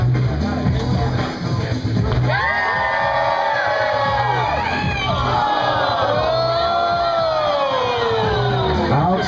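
A crowd at a professional bowling championship cheers and yells continuously as a ball rolls toward the pocket, with loud whoops and rising shouts over a steady roar of voices.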